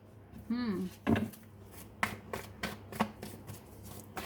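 Tarot cards are shuffled and drawn close by in a series of crisp riffling slaps and taps, with a brief bit of soft speech early on.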